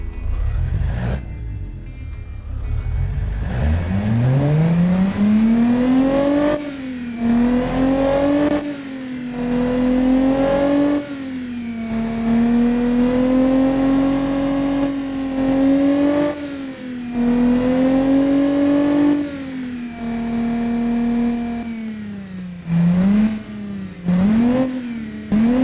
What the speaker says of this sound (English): Let's hear this eco daily driving engine.